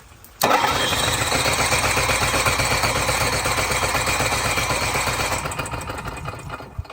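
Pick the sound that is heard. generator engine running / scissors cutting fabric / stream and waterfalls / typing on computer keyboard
generator engine running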